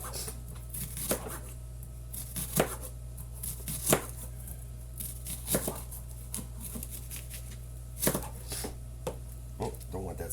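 Onions are chopped on a cutting board for burritos, with irregular close knife thuds spaced a second or two apart over a low steady hum.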